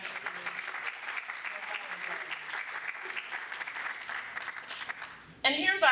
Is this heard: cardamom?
no